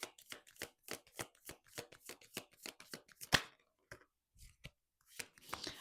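A deck of oracle cards is shuffled close up in a quick run of crisp riffling flicks, then a pause and a few scattered soft slaps and taps. Faint voice in the background.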